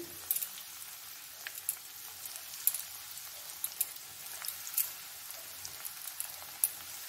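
Bread slices frying in oil for a sweet, a steady soft sizzle with light irregular crackles and pops, close and continuous with no talking.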